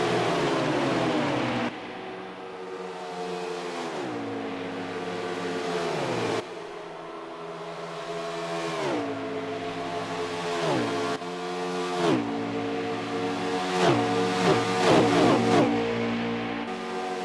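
Race cars in a virtual racing game at Atlanta, a pack of engines whining and rising in pitch through repeated gear shifts, with layered cars close together, steady and loud, no talk.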